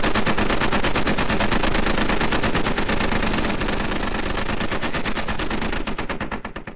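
Sustained automatic gunfire in the video game Squad, as British Bulldogs lay down covering fire across a field: a loud, rapid, evenly spaced stream of shots that runs unbroken for several seconds before thinning at the end.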